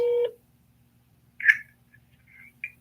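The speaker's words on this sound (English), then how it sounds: "So I'll just press 9 and see if I can get connected over" A single short telephone keypad tone sounds as 9 is pressed on a phone during a call, clear and steady for a moment, then quiet apart from a few faint clicks and chirps.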